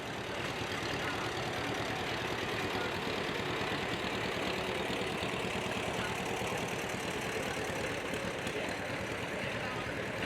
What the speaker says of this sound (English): This is a 1937 John Deere B.